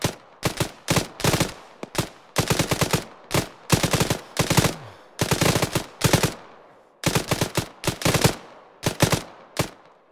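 Repeated bursts of automatic rifle fire in Arma 3, loud and sharp with short gaps between volleys, each burst a quick cluster of cracks, heard alone without voices.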